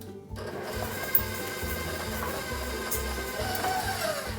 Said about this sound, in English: this is pretty much one of those just classic creaming the sugar with the butter